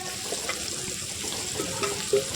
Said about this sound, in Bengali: এরপর সর্ষের তেল দিয়েছি তাতে কড়াইয়ে, এর মধ্যে তেজপাতা আর গোটা জিরে ফোড়ন দিয়েছি। এরপর দিলাম পেঁয়াজ কুচি